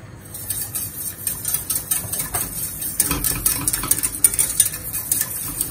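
A spoon stirs a monkfish curry cream sauce in a pan, giving close, irregular scraping and clinking against the metal with a faint sizzle underneath, and no voices.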